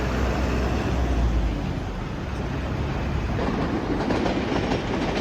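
A train rumbles past on the rails nearby at Tennoji, Osaka, a loud continuous roar with rhythmic clicking of wheels over track joints.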